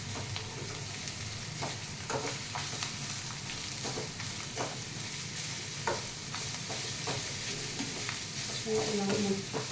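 Beetroot fry sizzles in a pan on a high flame while a spatula stirs and scrapes it repeatedly, the scraping strokes irregular over a constant hiss.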